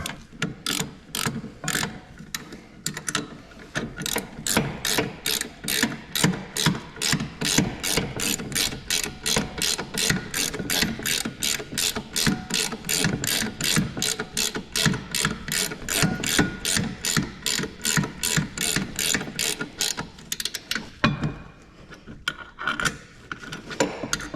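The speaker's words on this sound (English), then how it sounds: "so I'm just gonna use a wrench now" Ratchet wrench tightening a threaded brake part on a Z31 300ZX big brake kit with Brembo calipers: a rapid, steady run of loud metallic clicks for about twenty seconds, then it stops.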